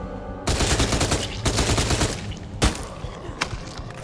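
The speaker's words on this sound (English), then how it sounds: "I think I'm going to get the submachine gun out so we can't wear him down." A submachine gun fires rapid bursts during a boss fight in the survival video game Night of the Dead, loud and close, with bursts broken by short gaps and one heavy impact-like blast partway through.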